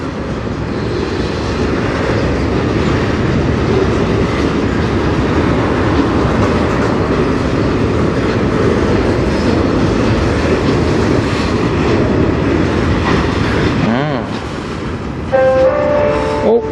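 CN night freight on the Strathroy Sub rolling past: a loud, continuous roar of wheels and cars that holds steady for most of the stretch, then briefly dips and drops away as short tonal beeps come in near the end.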